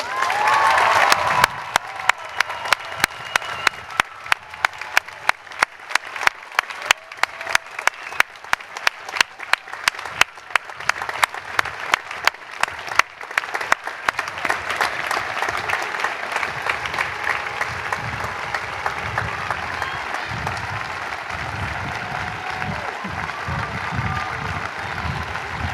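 A commencement audience applauds the graduating class of 2012: a few sharp claps build into a sustained wave of clapping from a large crowd, loud and filling the hall, with faint cheering mixed in.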